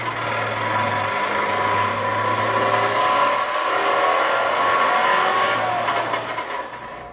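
An East German Trabant's small two-stroke engine drones while the car drives, a continuous buzzy, rattly note with a steady low hum, rising and easing slightly through the run, heard close from inside the cabin.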